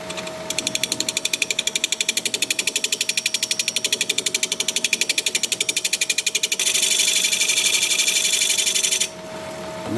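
A wood lathe spins a workpiece at about 700 RPM while a parting tool cuts into it, giving a steady rapid mechanical clatter that turns into a louder continuous hiss near the end before stopping abruptly.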